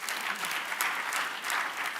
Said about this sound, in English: Good, clap for her.